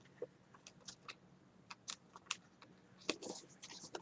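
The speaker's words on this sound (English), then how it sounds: "I'm just going to tear all the sides off," Paper edges of a cutout are torn off by hand, quiet uneven ripping and crinkling bursts close up, with soft rustles between them and one louder tear near the end.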